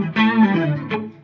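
Electric guitar played through a Boss GT-1000 multi-effects unit set to distortion with an overtone effect, two sustained fuzzy, swirling notes struck close and loud, the second a short stab after a pause.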